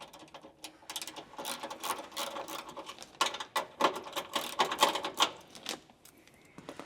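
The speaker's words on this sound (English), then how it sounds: "we want to just undo these 2 nuts here" Ratcheting spanner clicks and rattles as two nuts are undone on a rear barn door table in an LC78 Troopy, a busy stream of close mechanical clicking with louder bursts midway.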